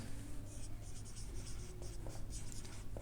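Chalk or marker writing on a board during an electricity lecture, a series of short scratchy strokes in quick bursts, fairly faint under a low steady hum of the room.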